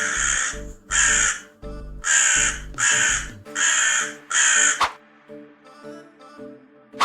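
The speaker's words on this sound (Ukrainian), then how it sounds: "А ворона найчастіше кричить кар, наприклад, ось так." A crow caws loudly and repeatedly, six harsh calls in a steady rhythm, followed by a few quieter calls.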